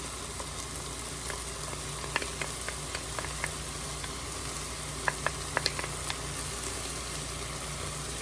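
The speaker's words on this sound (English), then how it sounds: "All right, we're going in with our garlic." Garlic sizzles in a well in the middle of a pan with sautéed vegetables for Texas red chili, a steady close frying hiss with scattered small pops and crackles and a few light stirring clicks.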